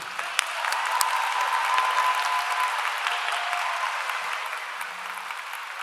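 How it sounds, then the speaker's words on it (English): Commencement audience at Bowling Green State University, spring 2024, clapping in a sustained, dense wave of applause that holds steady and eases slightly toward the end, with no voices over it. "Please join me in a round of applause for these two."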